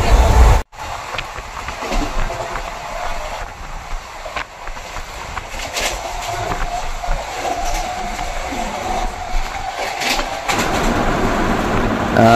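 Interior of a moving passenger train on a long journey from Kolkata, with a steady rumbling roar and rhythmic clatter of wheels over rail joints throughout, loud and continuous after a brief sharp cut at the start.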